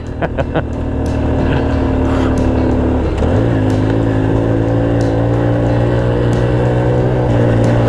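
A small carbureted motorbike climbs a hill in South East Asia. Its engine makes a steady, close, buzzing drone that dips and settles into a new pitch partway through as it keeps pulling.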